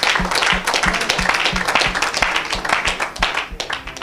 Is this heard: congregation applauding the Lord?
yes